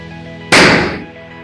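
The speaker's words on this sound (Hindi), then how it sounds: "तो चलो गाइस देख लो और होगा बड़ा धमाका।" A balloon without water bursts in a candle flame with a single sudden, loud bang that decays over about half a second, against a quiet steady hum.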